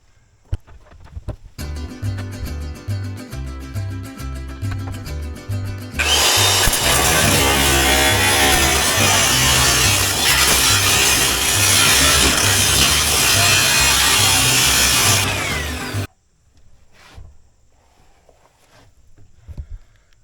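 A motor whines up, then a cutoff wheel bites into wooden planks with a loud, harsh, continuous grinding roar for about ten seconds before stopping abruptly into near quiet.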